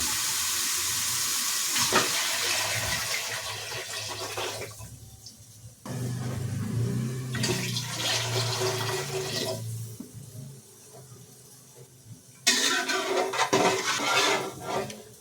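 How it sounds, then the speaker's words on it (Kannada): Water is poured into a hot pan after frying the tempering for upma, a loud rushing splash with bubbling and hissing, coming in several separate pours with quieter gaps between them. "ಇದಕ್ಕೆ ನೀರು ಹಾಕೋಬೇಕು"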